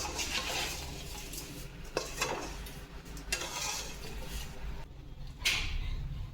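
A spoon scrapes and stirs ash gourd murabba in a pot as the sugar melts into a thin, watery syrup with cracked cardamom pods, giving a few distinct scraping strokes over a steady low background hiss, with no talking.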